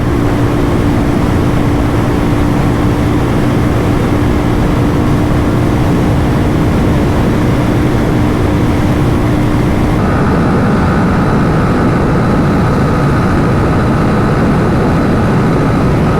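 Royal Enfield GT650 motorcycle accelerating hard at high speed in sixth gear, a loud continuous engine drone mixed with heavy wind rush, with a shift in engine tone partway through.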